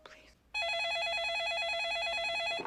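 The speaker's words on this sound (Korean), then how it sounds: "한 통의 전화를 받게 되는데" In the film Ransom, a telephone rings with a loud, continuous warbling electronic tone that starts suddenly after a short voice and carries on for about two seconds.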